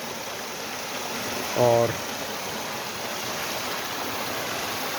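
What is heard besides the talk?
murmuring flow of a mountain river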